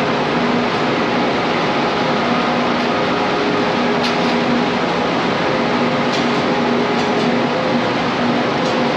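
A KTX high-speed train at Seoul Station gives off a loud, steady mechanical rumble and hum that runs unbroken, with no one talking.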